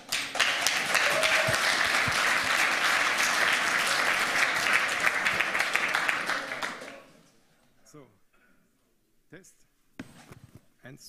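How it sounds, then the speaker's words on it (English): Audience applause at a technical conference talk, loud and sustained for about seven seconds before dying away, followed by someone speaking into the microphone. "now give them a warm applause"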